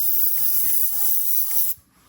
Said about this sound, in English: So now I spray that a little bit into the background too, just to give a touch of color